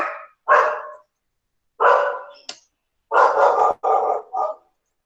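A dog barks in several separate bursts, some doubled, fairly close and loud, with short gaps between them and no talk over it, heard in a home during an online art appreciation class.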